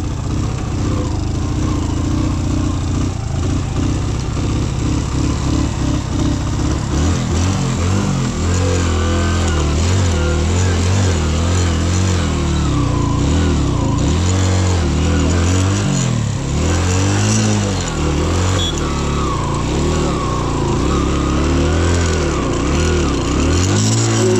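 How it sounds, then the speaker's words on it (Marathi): A car engine labours and revs continuously while driving up a steep slope near an army camp in Sikkim, a steady loud drone with rising and falling strain and no talk over it. "बघूया गाडी चढते का काय."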